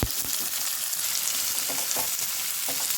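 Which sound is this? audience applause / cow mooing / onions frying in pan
onions frying in pan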